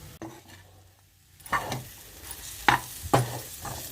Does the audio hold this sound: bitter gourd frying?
yes